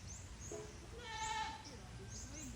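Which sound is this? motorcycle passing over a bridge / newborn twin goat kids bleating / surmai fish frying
newborn twin goat kids bleating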